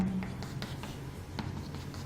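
Chalk or marker strokes on a board during a physics lecture, a series of short scratchy taps and drags close by with steady room hum underneath.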